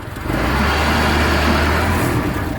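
A Ford Model T runs steadily, its engine a loud, continuous low rumble close by, with broad road and wind noise layered over it and no voices.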